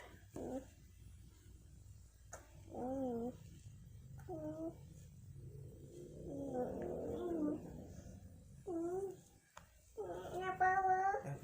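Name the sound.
child making noise in the background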